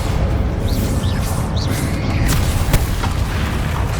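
Bombarda spell blasts go off in Hogwarts Legacy, booming explosions layered over a constant noisy rumble, with sharp cracks standing out near the middle and a few whistling magical swooshes early on.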